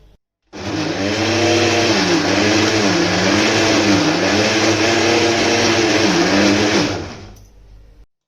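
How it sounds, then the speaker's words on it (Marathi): A loud mixer grinder whirs for about six seconds grinding chana dal chutney, its motor pitch wobbling as the contents churn, then winds down and stops. "आणि आता हे चांगलं मिक्सरमध्ये"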